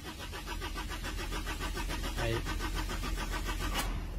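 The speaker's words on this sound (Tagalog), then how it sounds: "Problema natin dito ay ayaw siyang mag-start kahit na mainit na siya." A hot Ford engine cranks repeatedly without catching, a steady rhythmic starter churn with pulsing beats, close and loud, no voices.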